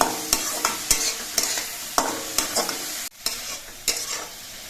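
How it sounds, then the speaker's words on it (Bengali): Radish greens being stirred with salt and turmeric in a frying pan, a utensil scraping in repeated strokes roughly every half second over a soft background sizzle. "এবার নুন হলুদ দিয়ে নেড়ে দেখে মিশিয়ে নিতে হবে"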